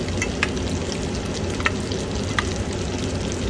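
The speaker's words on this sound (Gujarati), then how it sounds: "હવે આપણે ધીમે ધીમે બધા બોલ ફ્રાય કરી લઈશું" Homemade falafel balls deep-frying in hot oil make a loud, dense, continuous bubbling sizzle with a few sharp crackles, close up and without talk.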